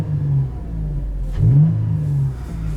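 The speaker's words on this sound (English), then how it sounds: "All the intake noise you could ever ask for." A 2023 Toyota 4Runner TRD Pro with a 4-liter V6 accelerates, a deep rumbling engine with loud intake noise that swells into a strong rev midway, then settles back to a steady drone.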